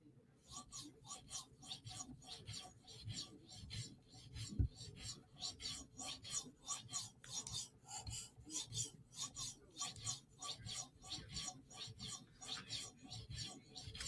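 Knife blade drawn across a 5,000 grit sharpening stone on a TSProf Kadet guided sharpener, a quiet rhythmic rasping of repeated strokes, close and steady, with no talking.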